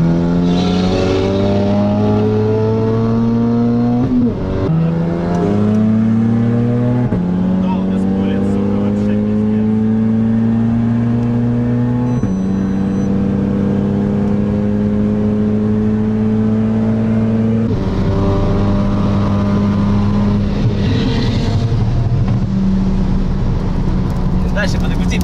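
Cars launching from a standing start in a drag race, including a Skoda Superb 2.0T 4x4, BMW X3 M40d, Octavia A7 1.8T and Audi A3 2.0T, engines revving loud and close with rising pitch through several gear changes.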